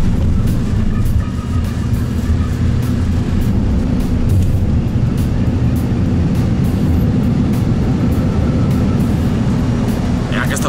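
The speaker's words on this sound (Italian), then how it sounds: "Io non mi spiego come questa ala possa generare così tanta portanza per alzare tutto sto aereo." An airplane takes off with its engines at full power, a loud, dense, steady roar with deep rumble that fills the whole stretch without letting up.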